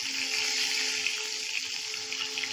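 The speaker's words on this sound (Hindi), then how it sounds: "हम धीरे धीरे भिंडी इसमें डालेंगे तेल में" Okra sizzling and crackling as it is slowly added to hot oil in a pan, a steady bright frying hiss with small pops, fairly close and alone.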